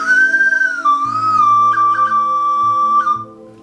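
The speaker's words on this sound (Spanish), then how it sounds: "son silbatos de usanza tradicional prehispánica y ritual" A traditional prehispanic-style ritual clay whistle holds a sustained, breathy tone for several seconds, shifting pitch slightly with a low hollow undertone, loud and close.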